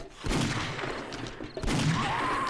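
Video game zombie horde night gunfire: dense, continuous volleys of shots with a brief dip in the middle, loud and sustained across the whole moment.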